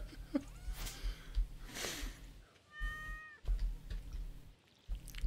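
A cat meows in Stardew Valley, giving a few short, clear calls partway through, with game music and ambient sounds running underneath.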